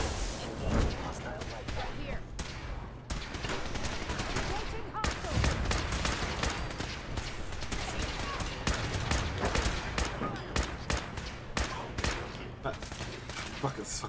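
A nonstop barrage of rapid gunshots and explosive bangs fills a firefight in Fallout 4, loud and dense from start to finish, with voices talking over the shooting.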